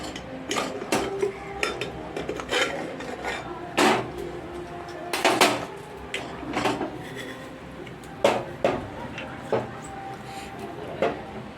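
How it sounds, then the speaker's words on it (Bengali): A pressure cooker used for popping corn has its lid worked open after the gas is turned off, giving a series of irregular metallic clanks, knocks and scrapes at close range, no talk. "প্রেসার কুকারের ঢাকনাটা খুলে আমি দেখাচ্ছি।"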